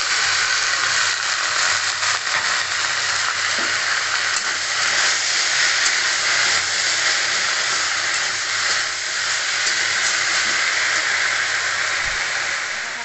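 Jute leaves hit a hot pan for a Bengali jute leaf curry, giving a loud, continuous sizzling hiss that holds steady throughout, with a few faint utensil clicks.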